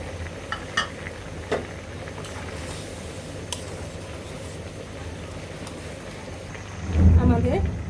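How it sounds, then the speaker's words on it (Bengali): Prawns going into a hot pan of ridge gourd curry, a steady low sizzle with occasional utensil clicks, swelling into louder bubbling and stirring near the end. "আমরা এখন বেঁচে রাখা চিংড়ি মাছগুলো এখন দিয়ে দিব"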